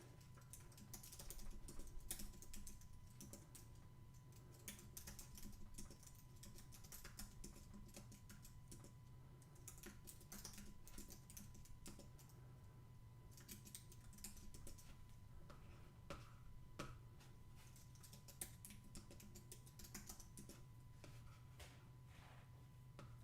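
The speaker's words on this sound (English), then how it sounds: "I can touch type" Faint touch typing on a computer keyboard during a home drawing session: soft, irregular clusters of key clicks tapping along quietly for a long stretch, with a low steady hum underneath and no talking.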